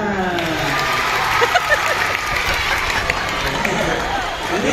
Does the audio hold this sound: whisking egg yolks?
no